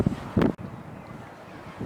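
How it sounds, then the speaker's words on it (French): Strong outdoor wind gusts against the microphone in rough, low rumbling bursts, loudest in the first half second and then easing into a steadier buffeting roar. "comme il y a beaucoup de vent"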